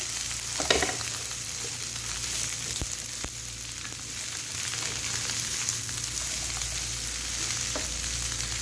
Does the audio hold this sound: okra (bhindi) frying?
yes